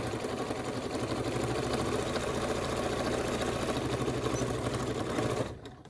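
Sewing machine running steadily while stitching a seam around a curved fleece hood with white thread, a continuous close mechanical whir that stops abruptly near the end.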